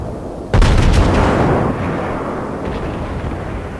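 Naval artillery shells fire in World of Warships, with a loud booming blast that hits suddenly, rolls on for about a second, then fades into a sustained low rumble.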